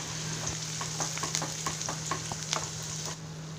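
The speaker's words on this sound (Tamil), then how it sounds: "வெங்காயம் சீக்கிரம் வதங்குவதற்காக சிறிதளவு உப்பு போட்டு வதக்கிக்கணும்" Chopped onions sizzle and fry in a pan with garlic and a pinch of salt, with occasional stirring clicks over a steady hiss throughout, close and fairly loud, for a Tamil-style drumstick, tomato and brinjal gravy.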